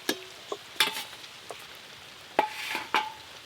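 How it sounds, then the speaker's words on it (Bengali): Nanpuri puris fry in hot oil with a soft sizzle beneath several sharp scrapes and clinks of a utensil turning them in the pan, the clatter coming in uneven bursts. "ঝটপট এবার নানপুরিগুলো এক এক করে ভাজা হয়ে যাচ্ছে।"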